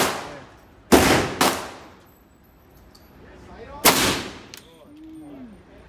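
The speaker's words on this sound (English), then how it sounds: "Come over here and shoot some shots." Three sharp, loud M1 rifle shots crack at an outdoor shooting range, two close together then one after a pause, each with a brief echoing tail, with faint voices between.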